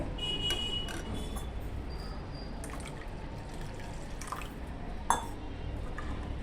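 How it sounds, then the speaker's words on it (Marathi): Soft trickle and dribble of water poured into a bowl of barnyard millet batter, with faint clinks and one sharper knock near the end. "तेव्हा आपण अजून ना थोडंसं पाणी टाकायचं आहे"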